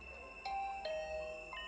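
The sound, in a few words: doorbell ringing in a video game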